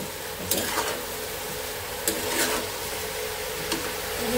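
Fried chicken sizzles gently in a pan as spices are stirred in, with a few soft spoon scrapes over a steady low frying hiss.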